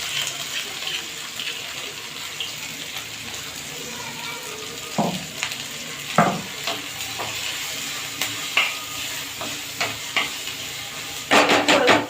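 Green chillies hit hot oil for a rustic Maharashtrian thecha, giving a steady broadband sizzle with a few louder spattering bursts and scraping stirs near the end. No one speaks.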